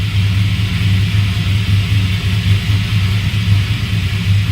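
LS-swapped OBS Ford truck engine idling with a new throttle body, a steady loud low rumble with a faint intake suction hiss over it, continuous and close with no talk.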